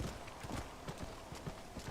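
Horse hooves clip-clop steadily in Red Dead Redemption Remastered, a quiet, even trotting rhythm of soft thuds with faint background noise and no talk.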